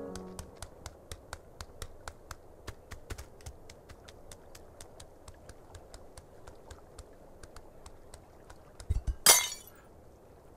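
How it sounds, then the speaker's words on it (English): A glass drops and shatters in Untitled Goose Game: one sudden, loud crash near the end, after a long run of light, evenly spaced clicking steps. "I gotta reset this one because I dropped the glass"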